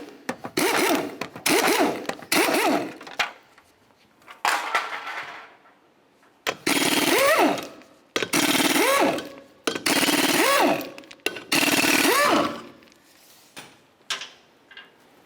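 Impact wrench taking lug nuts off a 2005-2010 Chevrolet Cobalt, loud rattling bursts repeated about eight times, each a second or so long with short pauses between, close up and without speech.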